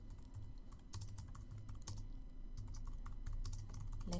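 Quick, steady keystrokes on a computer keyboard, close and clear, with brisk irregular clicks filling the whole stretch.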